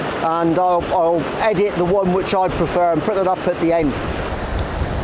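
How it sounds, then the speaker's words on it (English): Wind buffets the microphone and a river rushes beside a waterfall in bad weather, a steady broadband wash running beneath someone talking continuously. "the wind noise, the river and everything as well"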